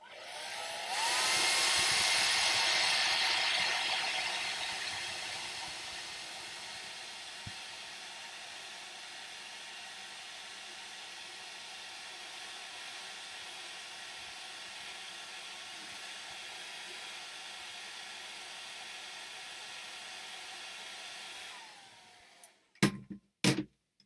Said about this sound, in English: I'm going to have to use the hairdryer on this area just to finish that off